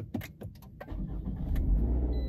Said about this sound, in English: My car started with the button.